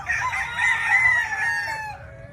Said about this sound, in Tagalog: Dami-dami ding manok.